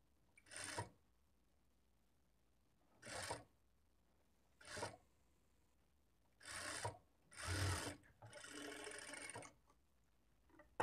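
A sewing machine stitches a blouse in short separate bursts, six brief runs of whirring with quiet gaps between them, the last burst longer than the rest, close and fairly soft.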